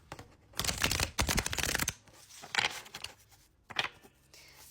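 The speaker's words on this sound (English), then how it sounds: "We're going to shuffle." A deck of tarot cards is shuffled up close in a few crisp riffling bursts, the first long and the later ones shorter, with pauses between.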